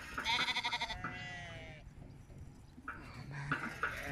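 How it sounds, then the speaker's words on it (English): Pet lambs bleating close by, several high wavering calls in quick succession, with a person talking in between and farmyard noise in the background. "We name all the pet lambs."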